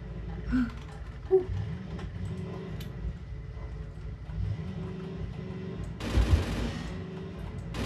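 Gunfire from an AK in a video game: scattered sharp shots and a short burst near the end, heard over a low ongoing game rumble with no speech.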